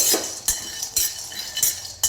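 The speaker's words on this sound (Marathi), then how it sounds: "आता आपण शेंगदाणे भाजून घेऊया आधी." Peanuts are dry-roasted in a hot kadhai and stirred with a metal spoon, giving a regular series of sharp scraping clinks against the pan about every half second over a soft rattle.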